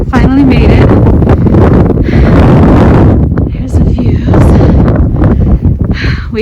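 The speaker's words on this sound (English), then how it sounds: "we have a nice wind," Strong wind buffets the microphone on an Arizona desert trail on a warm day, a loud, continuous roaring rumble with gusty swells and brief dips.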